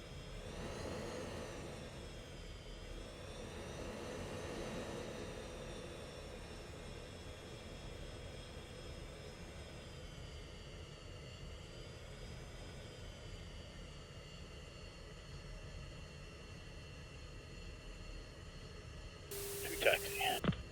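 In the Falcon BMS flight simulator, a jet aircraft taxis with a low, steady, fairly faint turbine whine that holds for most of the stretch, slowly rising and falling in pitch, ending with a brief radio burst.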